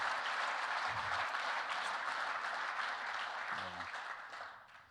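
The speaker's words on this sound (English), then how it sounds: "one more round of applause for Chris is appropriate here" Audience at an agricultural growers' summit gives a steady round of applause for a speaker, dense and even, fading out toward the end.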